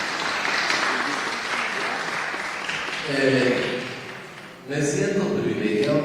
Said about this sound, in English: A cordial applause, please, for them.